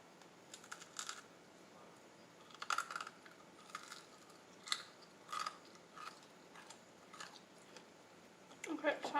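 Crunchy chewing on the dry outer edge of a homemade brownie, with irregular bursts of crisp bites and soft mouth sounds close to the mic over a faint background.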